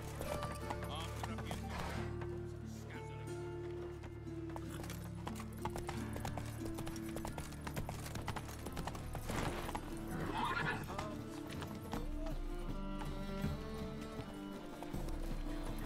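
Geralt's horse Roach gallops in The Witcher 3, with a steady rapid clip-clop of hooves and a whinny over continuous game music, while someone talks at moments.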